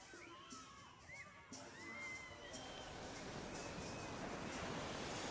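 Crowd noise and children shouting at a busy wave pool in a South African resort, with surf-like washing building steadily underneath, moderately distant and continuous.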